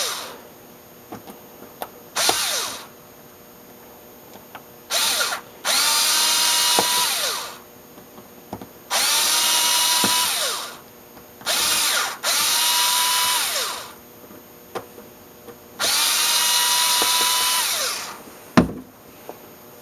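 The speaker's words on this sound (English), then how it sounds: "I usually loosen them up first so I don't strip them with the screw gun" A screw gun loosening carburetor screws on a Craftsman leaf blower whirs in five or six short bursts, each spinning up and winding down, separated by quiet gaps with faint handling clicks.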